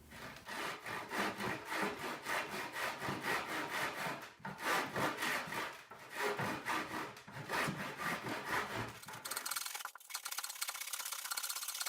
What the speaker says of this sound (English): I use good old handsaw to cut these pieces off.